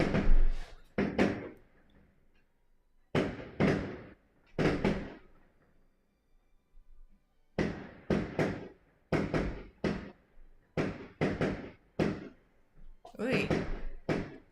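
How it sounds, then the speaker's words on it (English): Fireworks bursting out on a residential street at night, a string of sharp, loud bangs arriving in irregular clusters with brief pauses between volleys, close by and standing out from the quiet. "my street, I don't know if you can hear it, but is deciding to fire off fireworks tonight."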